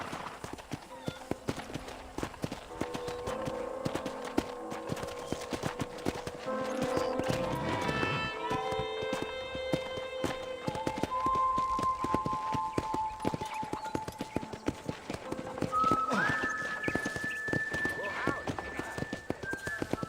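Horse hooves clip-clop steadily while riding through a ranch in the Red Dead Redemption video game, a rhythmic, close trotting beat running throughout beneath in-game music and talking voices.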